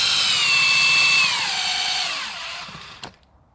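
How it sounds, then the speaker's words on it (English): An electric drill spins a Bosch alternator at high speed with a whining tone that slides downward as it spins down, ending in a sharp click and then near silence. "Currently charging the battery from my drill"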